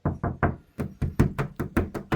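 Nine or so knuckle knocks on a Nissan Frontier rear door panel treated with sound deadening land as close, dull thuds in an uneven rhythm, with no talking.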